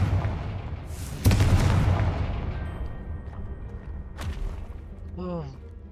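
A fiery Confringo spell blast in the Hogwarts Legacy video game, erupting as a loud booming burst about a second in, then rumbling and fading, with a second sharp crack later and a brief voice near the end.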